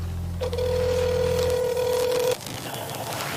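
A telephone call being placed: a low dial tone gives way to a steady tone, then a short pause before ringing begins, clear and close with no talking.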